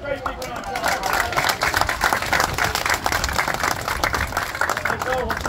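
An audience at a Gatorland show at Orange Lake Resorts claps for Bo, lively, continuous close applause lasting the whole stretch, with voices and cheering mixed in.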